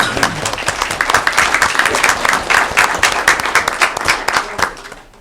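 A school governing board meeting audience applauds the students, individual claps distinct and fairly close in a brisk, uneven rhythm that thins out and fades at the end.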